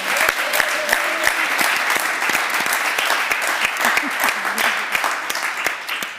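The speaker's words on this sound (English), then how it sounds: "let's give our panelists a round of applause" An audience applauds panelists at a school-themed panel event, with a dense, sustained round of clapping that holds steady for several seconds before tapering slightly, with faint voices mixed in.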